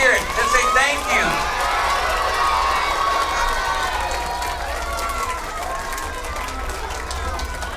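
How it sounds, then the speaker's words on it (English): Crowd of elementary schoolchildren at a school assembly calling out thanks and cheering together, a loud, dense wash of young voices that stays steady and close throughout, with a few scattered claps. "give them a big round of applause and tell them thank you"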